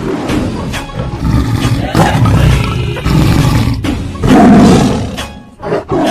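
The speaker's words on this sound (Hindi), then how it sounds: "ये तो टाइगर की आवाज है।" A tiger roar sound effect in a dubbed drama, a loud, rough, rumbling growl that swells and fades in bursts, mixed with dramatic music.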